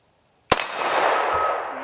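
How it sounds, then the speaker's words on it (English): A pistol shot is followed at once by the ringing clang of the bullet striking an 8-inch steel gong, with the metallic ring sustaining and slowly fading after the single hit. "Alright, 8-inch gong."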